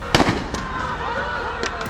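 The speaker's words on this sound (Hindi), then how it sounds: "इसी दौरान फिर गोली चलती है।" Police open fire on student protesters in Bangladesh. Several sharp, close gunshot cracks ring out at irregular intervals under a speaking voice.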